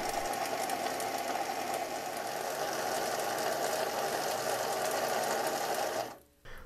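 A metal lathe turns a steel workpiece between centres down toward a small diameter, giving a steady, continuous mechanical whir and hum that runs evenly before cutting off abruptly near the end.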